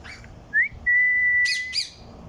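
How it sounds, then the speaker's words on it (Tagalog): Parrots at a bird park giving a shrill rising whistle, then a long sustained whistled note followed by two harsh squawks, close and clear over a quiet background. "Yan po ang loro dito sa Kingdom. Ang dami na nila."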